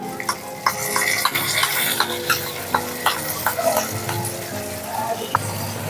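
Steady sizzling of cauliflower frying with repeated scraping and stirring clicks of a utensil against a pan, close and continuous.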